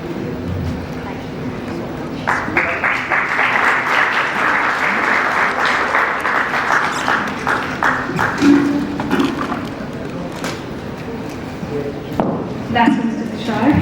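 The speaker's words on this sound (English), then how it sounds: "Can we have an applause for them?" Audience applause for the panelists at a TiE Lucknow entrepreneurship panel session, a sustained, loud clapping crowd lasting about ten seconds before tapering, with a few voices over it.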